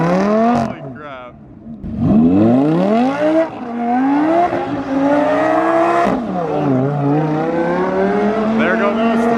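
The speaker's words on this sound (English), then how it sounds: "Well, apparently it is my turn to do some donuts." A Lamborghini revs hard while doing donuts, its engine pitch climbing and falling in repeated loud sweeps with a rough, spinning edge, all close by.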